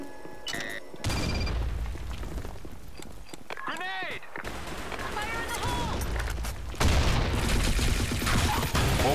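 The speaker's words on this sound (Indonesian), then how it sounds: "Grenade. Fire in the hole." A grenade explodes in the shooter game Blackshot, set in a competitive match, with booming blasts among rapid gunfire. Game voice callouts and announcer speech are heard over the steady, dense battle noise.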